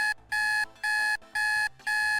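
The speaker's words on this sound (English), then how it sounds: "the sudden sound of any alarm is not the best way to start your day" Alarm clock ringing loudly in four repeated bursts of bright electronic beeping, each burst about a third of a second long with short silent gaps, alone with no voices.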